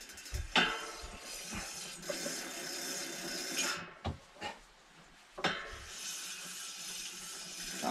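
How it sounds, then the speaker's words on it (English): Brake pads rubbing on a newly fitted brake disc in a home shed, a faint scraping and grinding with occasional clinks and knocks, uneven in rhythm and heard close with no talking. "that's just the brake pads rubbing on the new disc."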